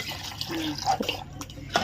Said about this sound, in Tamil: இன்னும் தண்ணி ஊற்றிக்கிறேன்